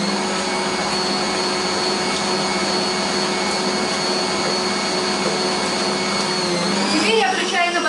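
An electric mixer runs at high speed beating eggs and sugar for a Prague cake batter, a constant loud whirring drone that shifts in pitch near the end, with no talk.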